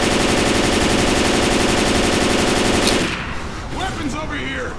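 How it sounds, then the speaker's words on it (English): Sustained loud automatic machine gun fire in the video game Left 4 Dead 2, a continuous rapid stream of shots for about three seconds that then cuts off, leaving quieter game sounds and a voice. "Now I have a machine gun."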